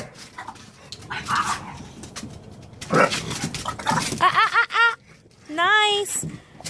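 A female dog barks and yips excitedly while playing, with bursts of high whining barks and growly vocalizing close to the microphone, mixed with scuffling movement and a few spoken words from people nearby.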